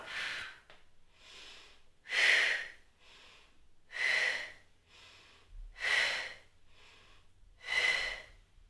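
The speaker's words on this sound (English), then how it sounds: "I can exhale as my leg goes out" Steady, audible exhales during a core warm-up exercise as one leg extends outward, four clear breathy pushes spaced roughly every two seconds, close and fairly soft, with no talking.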